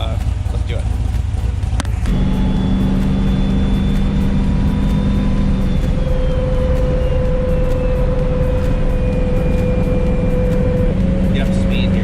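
A car fitted with a new boost valve driving and accelerating, its engine droning loudly and steadily inside the cabin with a faint rising whine, under a voice speaking.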